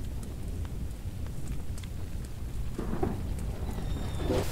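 Rumbling thunder during a rainstorm in the horror game Choo Choo Charles, a low continuous roll with steady rain hiss and a few brighter crackles near the end.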